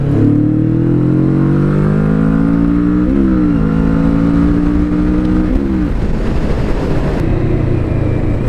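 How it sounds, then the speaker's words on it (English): A Kawasaki Vulcan S 650 motorcycle on its stock exhaust growls deep and loud up close, revving in rising steps with shifts between them before dropping back toward a steady drone. "this is stock exhaust, and I freaking love it. It's got just a nice deep kind of growl to it"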